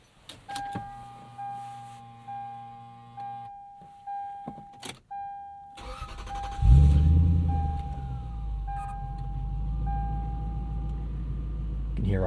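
A 1998 Lexus GS 400 V8 with a Megan catback exhaust makes a warm start. A series of short repeated beeps and clicks comes first, then the engine cranks and settles into a steady, loud idle rumble up close.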